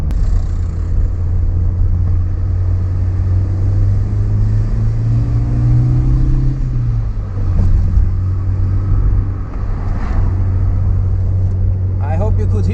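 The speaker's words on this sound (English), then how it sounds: "Inside those small little towns, the car is even louder because of all the walls that are there." A Nissan Sunny Coupe GTi driving on Swiss mountain roads: a steady low engine drone with a slight rise and fall, heard from inside the car under continuous road rumble.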